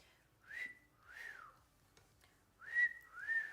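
A person whistles four short sliding notes, two early and two louder ones near the end, with quiet pauses between and no talking.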